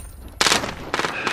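Gunfire in Call of Duty Warzone, two loud bursts of shots in close succession with a third starting at the end, near and sharp, no talk over them.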